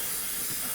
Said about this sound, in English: PS 270 airbrush I'm using, and I've got it connected to me proper compressor with a tank on it